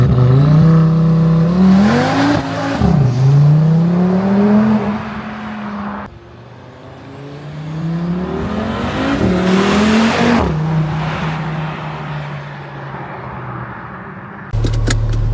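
An Audi RS3 8Y engine revs hard and accelerates through several gears, loud exhaust roaring and dropping between shifts, with a brief sharp burst at the end.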